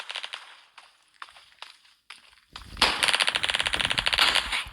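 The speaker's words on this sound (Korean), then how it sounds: "저 대포 쏘는 건 좀 에바지." Cannon fire in a backrooms-style shooter game with flag battles and guns: a handful of sharp, separated metallic bangs, then a loud rapid-fire burst of blasts rattling on without pause.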